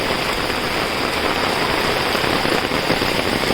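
Heavy monsoon rain pours down in Mumbai in a dense, unbroken roar of hissing water, loud and steady throughout with no voices.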